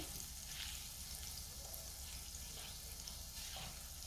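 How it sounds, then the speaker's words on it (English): Butter sizzling in a frying pan, a steady soft crackle and hiss that holds evenly throughout. "You put some butter all over your pan and keep it from sticking."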